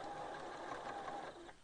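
A sewing machine runs steadily, stitching a quarter-inch patchwork seam that joins a triangle piece to a shaded four-patch unit, its even mechanical whir holding close and constant before easing off at the end.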